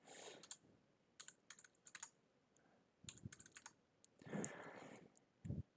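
Keystrokes clattering on a computer keyboard as a value is typed in, in irregular bursts of quick clicks with a couple of heavier thumps, close and fairly quiet with no talking.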